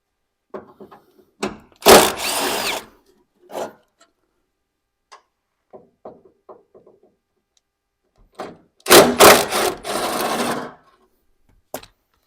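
Power tool cutting off the header panel bolts on an OBS Ford truck, heard as two loud, harsh bursts of about a second each. Quiet clicks and handling noises fall between the bursts, with no talking.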